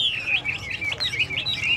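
Caged birds at the bird-selling stalls of the Cán Cấu weekly market in Sa Pa chirping in quick, warbling, repeated bursts, fairly close and lively over a low murmur of background noise.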